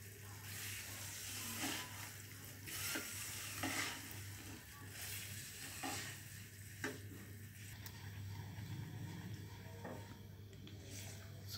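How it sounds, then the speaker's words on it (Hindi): Semolina roasts in a pan while a spoon keeps stirring it, giving a steady faint sizzle and repeated soft scraping strokes, with no talk. "सूजी को अच्छे तरीके से भुनना है"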